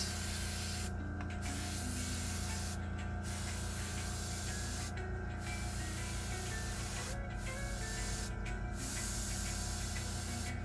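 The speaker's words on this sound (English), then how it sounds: "So that's why I use the airbrush" Steady airbrush hiss runs continuously beneath a dense, loud background of music-like tones, broken by several brief pauses in the spray. There is no talk.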